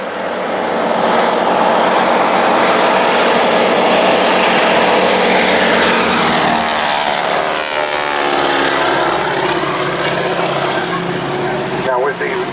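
Aerobatic display aircraft at the Duxford Air Festival roar overhead, a loud sustained propeller engine drone that swells and shifts in pitch as the planes dive and pass, filling the whole stretch without pause.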